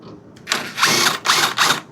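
A mower blade bolt on a Toro TimeMaster is tightened down with a ratchet, giving three short bursts of close, rapid metallic clicking separated by brief pauses.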